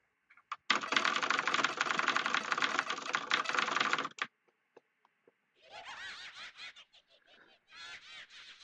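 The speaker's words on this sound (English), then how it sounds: "Enjoy some keyboard." Fast computer keyboard typing during an Undertale speedrun comes through as a dense, loud burst of clattering keystrokes lasting about three and a half seconds, followed by a few scattered taps, then giggling and chattering sounds.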